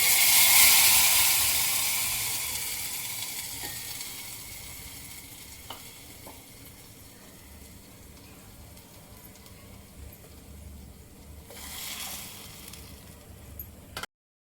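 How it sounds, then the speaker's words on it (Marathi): Tadka of spices spluttering in hot oil while making idli, a strong sizzle at the start that fades to a steady low frying hiss, with a few sharp crackles and a fresh burst of sizzling near the end. "आता आपण तडका द्यायचा"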